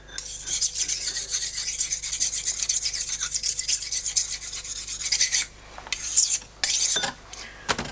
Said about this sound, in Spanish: Ahora vamos a sacarle el filo. Y tengo aquí la otra piedra para terminar de prepararlo.